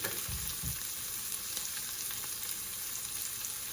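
Onion frying in a pan gives a steady, close sizzle throughout, with a couple of soft stirring knocks near the start and no voices.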